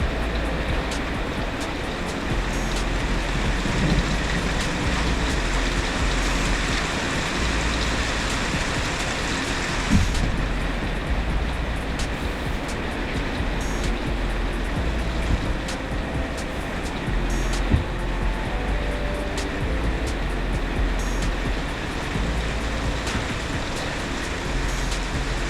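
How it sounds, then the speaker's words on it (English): Heavy rain pours steadily outside a motorcycle workshop, a dense continuous roar with a low rumble underneath, unbroken for the whole stretch with no talk. "It just started pouring rain outside, so hope you enjoy the ASMR."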